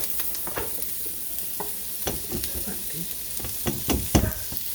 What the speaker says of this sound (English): that's the potatoes and the zucchini going in. I'm going to give that a quick stir.